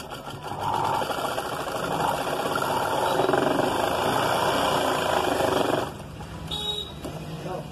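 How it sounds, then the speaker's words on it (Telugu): An electric sewing machine stitches a blouse in one steady, fast mechanical whir that runs for several seconds close by and then stops abruptly, leaving a quieter hum. "దీన్ని ఇలా కుట్టుకోవాలి ఇలా కుట్టుకొని ఇలా మనం కుట్టుకోవాలండి"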